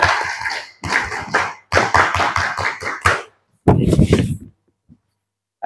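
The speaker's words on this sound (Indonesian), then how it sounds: "Tepuk pramuka." A scout assembly performs the rhythmic tepuk pramuka clap together, loud and close, in patterned bursts of rapid group clapping separated by short pauses, ending with a final flurry before silence.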